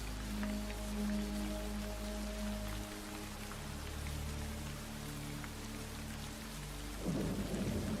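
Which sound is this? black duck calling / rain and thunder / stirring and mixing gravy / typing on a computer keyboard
rain and thunder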